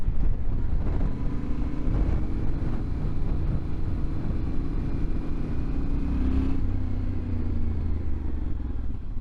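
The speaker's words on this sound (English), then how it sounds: "I think this is a stock exhaust, but it sounds so nice." A 2023 Yamaha Tenere 700 World Raid with stock exhaust drones steadily at cruising speed, a low rumbling exhaust note with wind noise, shifting pitch briefly partway through before settling again.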